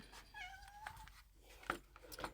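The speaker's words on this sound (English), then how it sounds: "I don't know why my cat is throwing a fit right now." A house cat gives two faint, drawn-out meows indoors, followed by a couple of short clicks and knocks.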